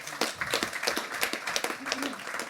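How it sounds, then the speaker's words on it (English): A burst of clapping from a small group at a live hospitality event, quick irregular claps close by, lasting a couple of seconds with a voice faintly underneath. "Round of applause, sorry, thank you."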